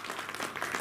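Short burst of applause from an audience for two judges at a state-level mono-acting competition in Pokuru, a dense, steady patter of many hands clapping together.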